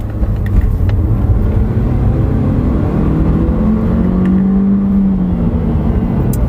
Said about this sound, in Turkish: Şu an bir daha dip gaza çekiyorum.